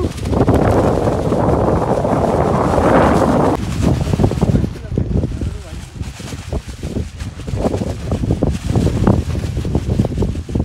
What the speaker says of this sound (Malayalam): കാറ്റ്